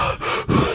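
Close, loud breaths into a podcast microphone, two quick sharp inhale-exhale bursts in a row with no talking.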